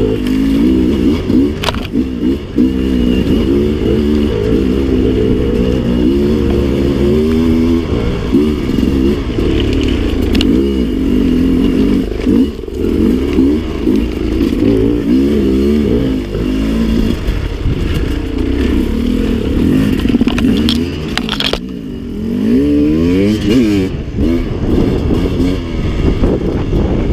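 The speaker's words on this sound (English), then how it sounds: "I grabbed second gear, gave a fistful of throttle, and the wheel came up." A dirt bike, a 302, revs hard as it is ridden on a trail, shifted into second under heavy throttle to lift the front wheel. The engine drones loud and continuous with rising and falling pitch sweeps throughout, and no talk.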